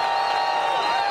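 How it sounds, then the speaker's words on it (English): An event crowd cheers and applauds in a continuous, loud wash of clapping and whooping voices. "let's give all of those who helped me put this event together a big round of applause"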